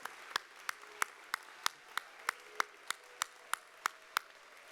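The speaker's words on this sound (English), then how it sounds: "Just give them another hand of applause" Light applause at an anniversary celebration for a planning committee, a steady series of distinct, evenly spaced claps from a few hands, fairly faint and without talk.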